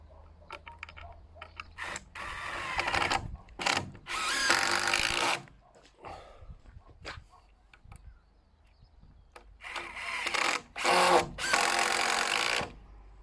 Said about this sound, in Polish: Także po cztery wkręty wszędzie.